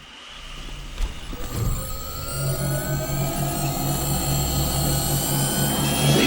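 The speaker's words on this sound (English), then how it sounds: "Look at all the planes." Aircraft engines drone steadily in Wasteland 3, a continuous roar with a rising whine that builds over several seconds and holds loud with no talking.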